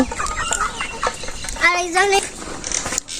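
Chickens cluck and squawk nearby in short bursts, with a louder rising call in the middle, amid busy yard noise.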